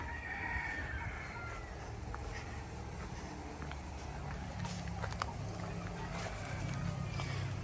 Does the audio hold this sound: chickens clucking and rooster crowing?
yes